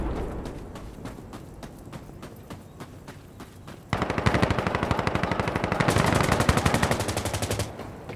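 Gunfire in the video game Insurgency Sandstorm: rapid automatic bursts crackle throughout, with a second, louder and denser stream of fire taking over midway and running for several seconds.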